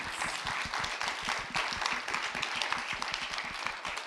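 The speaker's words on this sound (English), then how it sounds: "Can we give our panel another warm round of applause?" A symposium audience applauds its panel: dense, steady clapping from many hands at moderate distance, continuous for the whole stretch with a faint voice underneath.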